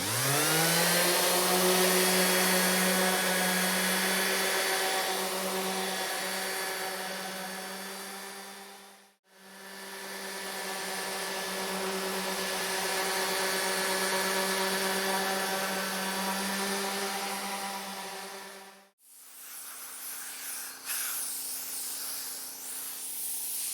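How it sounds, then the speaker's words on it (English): Power sander fitted with 220 grit paper working over a homemade furniture piece, a loud steady whine and hiss that runs in long passes, cutting out briefly twice before starting again. "Got a fresh piece of 220 grit on my sander here, and we're just going to go ahead and sand off all these smudges and all these marks."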